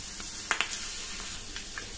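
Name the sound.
spices sizzling in hot oil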